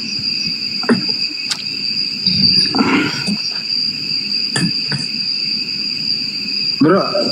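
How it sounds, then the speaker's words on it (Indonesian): Crickets chirp in a steady, continuous high trill, with occasional dull knocks and rustling movements nearby. "Aduh, bunyi jangkriknya."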